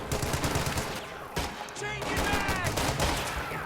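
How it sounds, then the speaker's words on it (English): Rapid bursts of gunfire from squads in Company of Heroes 2, a real-time strategy game battle between US, Soviet and Wehrmacht OKW heavy infantry, crackle steadily and fairly loud throughout, with sharp whizzing shots layered over a dense combat din. "You're going to have these guys start shooting at him."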